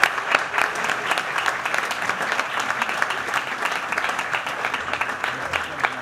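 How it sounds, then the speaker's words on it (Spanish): A crowd applauds the presenters at the 2009 Latin Grammy nominations event at The Conga Room, sustained clapping with sharp individual claps standing out and some faint voices in the mix. "quiero pedirle nuevamente un aplauso a todas estas personalidades que nos acompañan"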